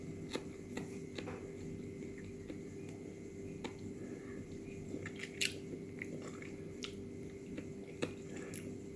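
Faint close-up chewing of stir-fried white watermelon rind, with soft crunches and occasional sharp clicks over a low background hum.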